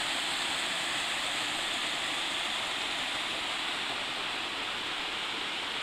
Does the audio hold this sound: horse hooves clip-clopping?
no